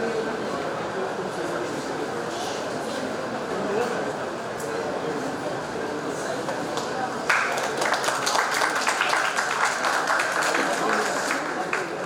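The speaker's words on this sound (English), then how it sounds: "Let's welcome ma'am with a huge round of applause" Applause from an audience at a college IT fest fills the space as a steady, dense wash of many clapping hands, growing slightly louder and sharper partway through.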